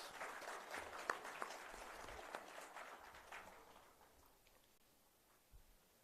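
Applause from a crowd at a sailing club event, a patter of scattered claps that tapers off and grows faint toward the end, with a few sharper individual claps standing out.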